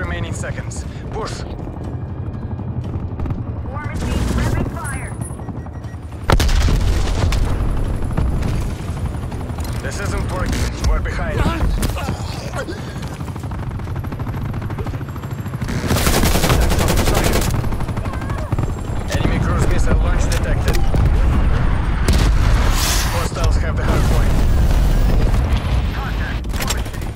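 Rapid automatic gunfire in Call of Duty: Black Ops Cold War on PS4, a loud, dense and sustained barrage with explosions and heavy battle noise that keeps building, while game voice lines and players talk over it.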